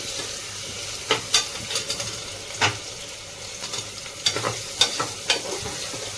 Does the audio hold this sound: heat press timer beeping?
no